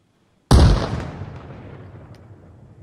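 A grenade goes off in Arma Reforger after a moment of silence: one sharp, loud blast followed by a long rumbling tail that fades over two seconds.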